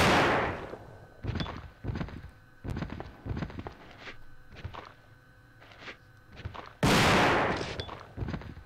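Shotgun blasts from Resident Evil 2 on the PS1: two heavy, loud booms with long decaying tails, one at the start and one near the end, separated by a run of quicker, softer thuds and impacts.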